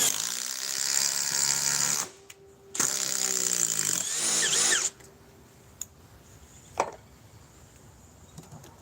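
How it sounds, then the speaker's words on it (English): An impact wrench drives a large lag screw, its harsh buzzing hammering running loud and close in two bursts with a short pause between, then stopping, leaving a quiet room with a few faint clicks and knocks. "An impact wrench."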